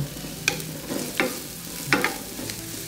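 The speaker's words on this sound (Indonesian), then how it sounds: "kalau numis-numis saya lebih suka pakai minyak goreng ya dia lebih cepat garingnya" Onions sautéing in cooking oil in a pan, a low steady sizzle under a few brief scraping stirs of a utensil, quiet and close with no talking.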